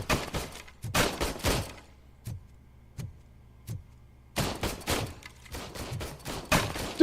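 Gunfire at a shooting range in the RoboCop game rings out in two rapid bursts of close, sharp shots, separated by a few isolated single shots and quiet gaps.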